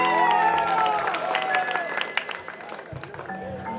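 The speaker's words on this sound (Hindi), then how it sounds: "Give them a big round of applause." Applause and cheering from an audience at a school annual function, dense and steady at first, then thinning with music or tones layered over the crowd.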